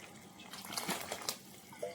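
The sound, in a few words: pouring boiled water into oats for soup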